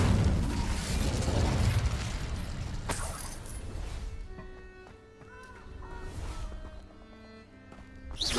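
Incendio fire spell cast in Hogwarts Legacy, a loud fiery whoosh and burst that roars for a few seconds, then fades into lighter magical chimes and tonal shimmer, with a fresh surge of noise at the very end.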